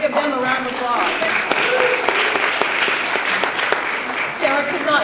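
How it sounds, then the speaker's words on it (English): Audience applause at a screenplay table read, a dense steady clapping from a seated crowd that swells and continues throughout, with some talk underneath. "Ted Satterfield and Jennifer White. Yes, let's give them a round of applause."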